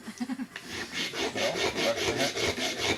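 Close, rapid back-and-forth sawing of wood with a blade used like a hacksaw at an outdoor primitive-skills winter gathering, a steady rhythmic rasp of strokes following a few short scrapes at the start.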